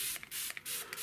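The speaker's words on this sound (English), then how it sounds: "Put a fine mist of spray just to help the paint." Spray bottle misting water over acrylic painting paper, three short hissing pumps in quick succession that sound close and fairly soft.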